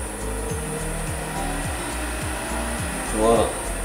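A single-phase, variable-frequency MC1420VF wood lathe runs steadily with a constant motor hum. A brief squeal rises near the end. No one speaks.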